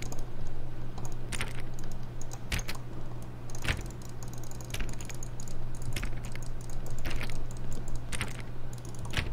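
Rapid, repeated button clicks in the video game The Stanley Parable, crisp and keyboard-like, in uneven bursts over a constant low electronic hum.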